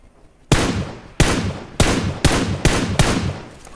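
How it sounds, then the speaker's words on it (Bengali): Headshot effects in a shooting video game: five sharp, loud gunshot-like cracks in quick uneven succession, each with a short decaying tail, alone without speech. "হেডশট সাউন্ড ইফেক্ট অন রাখলে একরকম সাউন্ড হয়"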